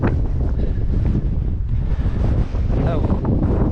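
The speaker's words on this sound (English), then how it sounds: "Hopefully out of the wind the other side." Strong wind buffets the microphone on an exposed fell ridge in the North Western Fells, a steady, loud roar that fills the whole stretch.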